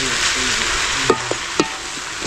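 Country chicken fry with coriander and mint is stirred in a hot pan: a steady loud sizzle with a few quick scraping clinks of the spoon against the pan.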